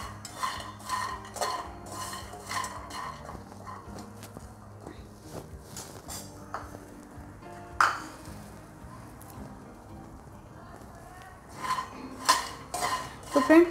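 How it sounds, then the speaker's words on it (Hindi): Walnuts dry-roasting in a pan without ghee give off clinks and scraping stirs of metal, with irregular taps and louder knocks near the end, and no voices present. "तो ये जो अखरोट है तो मैं इसको भून लूँगी"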